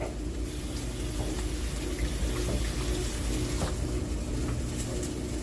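Hands being washed under a running kitchen tap, a steady rushing stream of water with faint splashes and clinks, no talking over it.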